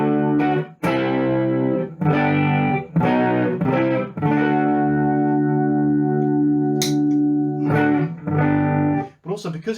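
An electric guitar played through a Twinote BBD analog chorus pedal, with sustained chords and single notes shimmering with a slight gritty breakup, close and fairly loud, broken by short pauses between phrases.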